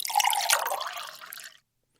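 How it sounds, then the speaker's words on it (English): Coffee pours into a cup in a close, continuous splashing stream that runs for about a second and a half before stopping abruptly into silence. "grab yourself a cup, pour yourself a cup"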